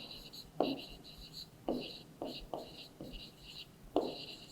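Pen strokes on paper while writing a maths total, short scratchy bursts repeating every second or so, close and fairly quiet, with a faint high hiss running through.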